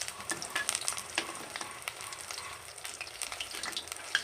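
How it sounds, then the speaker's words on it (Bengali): Batter-coated bakful flower fritters fry in hot oil, a soft, continuous crackling sizzle with frequent small pops, fairly quiet and close, no talking. "বকফুলের গায়ে একটা একটা করে মেখে নিচ্ছি আর তেলের মধ্যে ছেড়ে দিচ্ছি"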